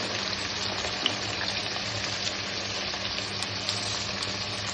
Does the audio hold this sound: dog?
no